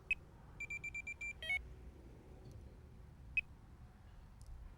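A carp fishing bite alarm sounds a quick train of short electronic beeps, followed by a denser burst and then a single isolated beep, in an otherwise quiet setting.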